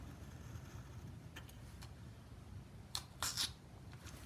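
Scissors cut down a paper planner printable, giving a few brief, crisp snips in a quick cluster near the end over a faint background hum.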